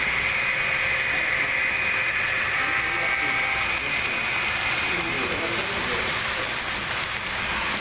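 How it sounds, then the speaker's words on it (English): A model railroad train runs on a large layout with a transfer table and turntable, making a steady mechanical whir and rumble with a faint tonal hum. People talk quietly over it throughout. "Comes the other train."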